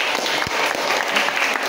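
A vocational culinary class of tenth-graders applauds together, a dense, even patter of clapping hands filling the room for about two seconds with no pause.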